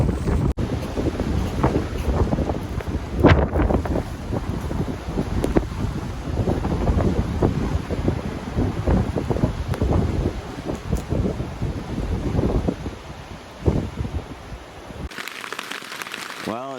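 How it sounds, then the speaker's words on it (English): Strong wind roars through a backcountry camp in a Montana blizzard, loud gusting buffeting the microphone for a long stretch while voices speak briefly over it. "It's snowing and windy to beat all."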